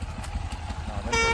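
Motorcycle ride through the Radhanpur market with a steady low engine drone, and a bright horn honk sounds near the end over the traffic noise.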